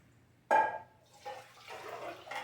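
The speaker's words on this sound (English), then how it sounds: "I'm going to pour that brine in here." Vinegar brine poured from a pot with a lip over sliced jalapenos in a container, an abrupt splash and then a soft liquid trickle that gurgles on and off, close and fairly quiet.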